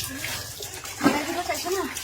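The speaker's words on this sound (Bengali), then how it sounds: "এই ফোয়ারাটা কষ্ট করে বানিয়েছি তো" Water splashing from a homemade fountain, a close steady wash of flowing water with a voice talking over it.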